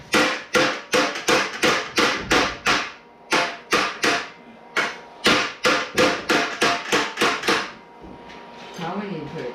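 A hammer strikes a metal subrail for a Model A Ford over and over, about twenty loud, sharp, ringing blows in a quick, slightly uneven rhythm, close up, followed by a brief metallic rattle.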